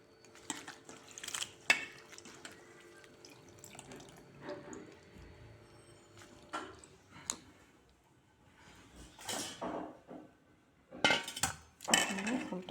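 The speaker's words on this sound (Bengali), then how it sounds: "জল ছড়িয়ে ছড়িয়ে ধুয়ে দিয়ে রাখছি" Flowers of the drumstick tree being rinsed in a bowl of water, with scattered splashes and trickles near and close, plus light clinks of dishes, growing busier in short bursts toward the end.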